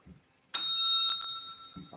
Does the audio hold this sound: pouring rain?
no